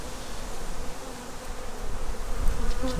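A swarm of honeybees hums steadily and densely in a poly nuc during a hive inspection, a close, continuous buzz that swells slightly louder near the end.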